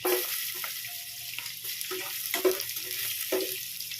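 Garlic sautés in a pan for chicken caldereta, giving a steady close sizzle with several short scraping stirs and no talk over it.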